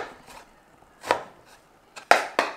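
A sharp kitchen knife chops vegetable pieces into cubes for a vegetable lasagna, a few separate crisp knocks on a cutting board, spaced unevenly, with a quick pair near the end.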